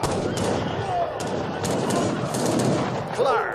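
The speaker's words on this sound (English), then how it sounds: "Let's make sure the cannons fire right into that mess." Cannons firing in the video game Age of Empires III during a battle, repeated rapid booming shots and crackling gunfire layered over a dense battle din, loud and continuous.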